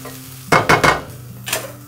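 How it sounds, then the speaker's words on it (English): Onions frying in olive oil get stirred in a pan: three quick, close scraping swishes over a soft sizzle, then one more stir a moment later. "First thing, I'm adding my onions. And give them a little time to soften up."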